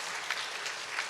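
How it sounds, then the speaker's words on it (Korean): Steady applause from a church congregation during a service, a dense wash of clapping that carries on without a break. "우리 큰 박수로 환영해 주시면 감사하겠습니다."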